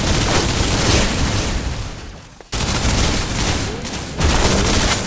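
Gunfire in the Snowbreak: Containment Zone video game, a dense, continuous roar of rapid automatic shots, loud and close, briefly dropping off before resuming even heavier.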